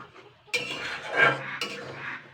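Boiled winter greens get stirred in a metal pot, a spoon scraping and clinking against the sides in a few close strokes with short pauses between them.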